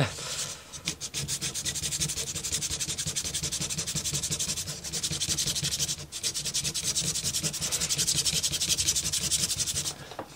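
Wood being sanded while repairing a ROKR marble parkour kit, a rapid rhythmic scratching rub at close range, continuous for several seconds with short pauses.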